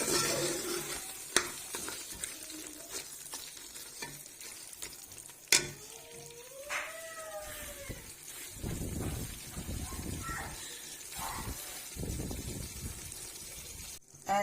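Whole white cumin seeds and mutton tripe fry in ghee, giving a soft, continuous sizzle with occasional stirring clatter and spoon scrapes, fairly quiet and close, with a voice talking over it at times.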